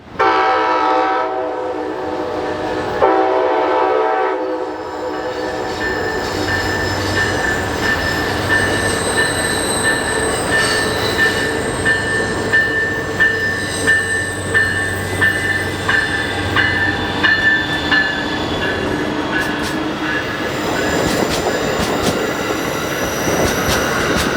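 An Amtrak passenger train led by a Charger locomotive rumbles past close by, wheels clattering and squealing steadily, with a horn sounding near the start.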